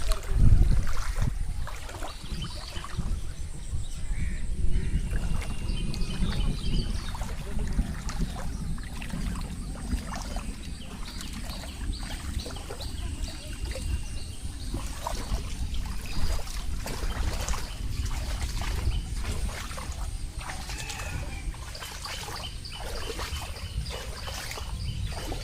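A boat moves steadily through fast-rising floodwater on a flooded road, with continuous water wash, low churning rumble and faint trickling running throughout, fairly close and without talk.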